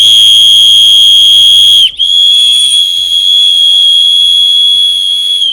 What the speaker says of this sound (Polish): podwójny, bardzo mocny gwizdek